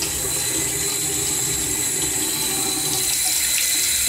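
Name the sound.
running water washing a soapy beetle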